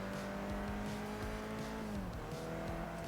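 A car in Forza Motorsport 3 slides its rear end out under the handbrake, with a steady engine drone and falling tyre tones running continuously at close range for the whole stretch.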